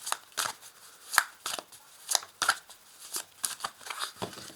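Tarot cards being shuffled by hand in quiet room, a series of crisp riffling and slapping bursts repeating at an uneven rhythm, close and fairly soft, with no talking.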